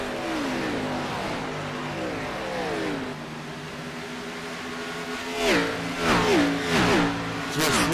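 Race truck engines roar at the Eldora dirt track, a continuous loud revving drone with shifting pitch and several louder vehicles sweeping past close by near the end.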